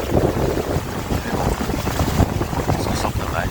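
Strong wind buffets the microphone amid rushing water and sailboat noise at sea, with a voice partly audible beneath the gusty roar.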